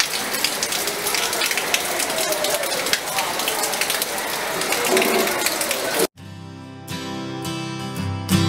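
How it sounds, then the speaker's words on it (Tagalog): Steady, dense rain patters on surfaces in Batangas for about six seconds, then cuts abruptly to different background sound. "No, umulan pa rin."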